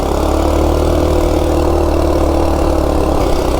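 Stock 196cc engine of a Coleman RSV minibike pulling up a hill, a loud, steady, rumbling drone held at constant revs throughout, close to the microphone with no speech.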